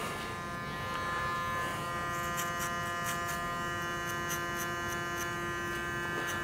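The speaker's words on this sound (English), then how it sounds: "So I'm using a Panasonic GP81 clipper." Panasonic GP81 electric hair clipper with a number one guard trimming a damp nape, a steady close electric buzz with bursts of sharper rasping as it cuts.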